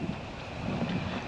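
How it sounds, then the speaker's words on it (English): Outdoor wind buffets the microphone beside a 2024 Jeep Wrangler 4xe, making a steady low rumbling gust noise on its own, with no talking. "you might be able to hear it right now because it's a bit windy"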